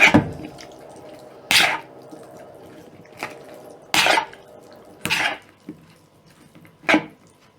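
A bean salad is stirred with oil in a bowl, giving about six short, wet squelching bursts separated by brief pauses, close and fairly loud.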